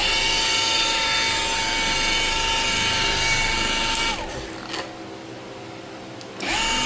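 Car polisher buffing Feynlab polishing compound on a test panel, giving a steady high whine that cuts out partway through and then starts up again near the end.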